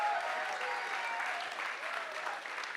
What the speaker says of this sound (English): Please, with a warm applause, welcome Maryam and Emma, Tobias and Johannes, Gilberto, Memo and Tanya here on stage.